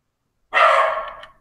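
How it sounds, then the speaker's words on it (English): A dog lets out a single sharp bark somewhere in the background of a podcast recording, a brief burst that fades within about a second. "Dog. Those happen."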